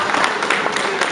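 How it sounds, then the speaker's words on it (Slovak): A crowd claps at a retirees' year-end gathering as a prize winner receives her award, a brief, dense burst of applause. "potlesk pre Mariku"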